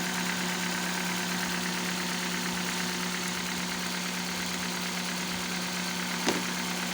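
A car engine idles after a misfire repair, a steady, even hum with no stumbles, running alone and continuous throughout.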